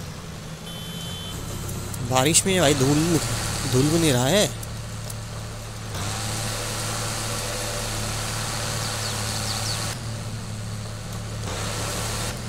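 Tractor engine from Farming Simulator 22, with an Indian Swaraj mod, droning steadily at a low pitch as the tractor drives along a main road, close and continuous beneath someone talking loudly in Hindi.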